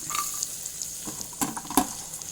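Grated coconut roasts in butter in a pan, a soft constant sizzle broken by a few crisp scraping taps from stirring, close and without talk.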